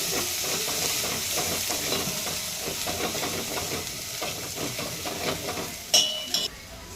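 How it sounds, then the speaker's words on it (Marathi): A paste of garlic, green chili, ginger and coriander fries in oil for a crab soup. It gives a steady close sizzle with stirring scrapes throughout, and a couple of sharper clinks come near the end. "ही लसूण हिरवी मिरची आलं कोथिंबीर अशी ही पेस्ट ही पण थोडीशी टाकूया ही पण तशीच थोडीशी परतून घेऊया"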